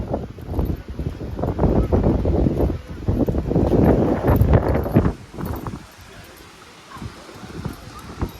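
Strong gusts buffet the microphone in loud roaring bursts for several seconds in San Marino, then ease off to a quieter breezy hiss.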